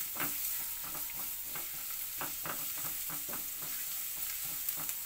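Garlic sizzles steadily in hot oil in a pan, with a dense frying hiss and a run of soft, rhythmic scraping stirs throughout, close and fairly quiet, no voices.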